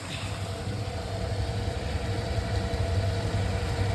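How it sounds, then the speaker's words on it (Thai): An electric motor with a gearbox and slightly slack drive belt runs steadily at a fish farm, a constant mid-pitched hum with a low rhythmic throb, close and unbroken. "ผมพาไปดูมอเตอร์นะครับ"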